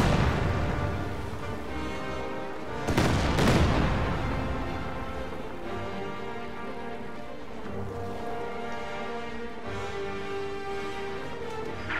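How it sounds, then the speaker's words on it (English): A Katyusha rocket artillery barrage in a wartime strategy game, with a loud burst of explosive impacts early on that gives way to a rumbling roar over dense battle noise. "Katyusha counter barrage coming in though."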